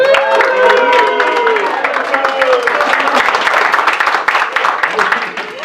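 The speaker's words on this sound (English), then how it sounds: "Big cheer for Megan" Wedding guests cheer and applaud loudly as the bridal party is introduced, dense clapping running throughout with an announcer's voice over it.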